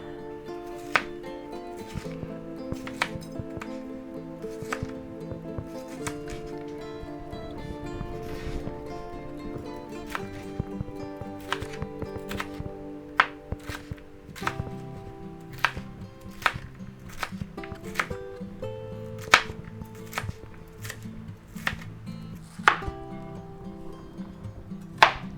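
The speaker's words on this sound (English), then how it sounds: "let's just go ahead and slice up our green bell pepper here" Sharp kitchen knife slicing a green bell pepper on a cutting board, a run of crisp, evenly spaced cuts close up over steady background music.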